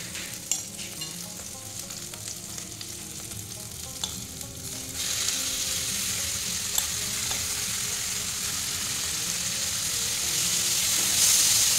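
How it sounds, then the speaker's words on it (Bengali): Marinated paneer with green chillies frying and being stirred in a pan, a steady sizzle that grows louder and fuller partway through, with occasional scraping stirs, no talking. "এবার একটু হালকা এটা একটু ভেজে নেব।"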